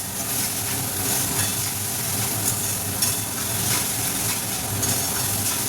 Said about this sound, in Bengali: সেই তেলের মধ্যেই গোটা গরম মশলা তেজপাতা দিয়ে পেঁয়াজ বাটা দিয়ে ভালো করে নাড়ছি।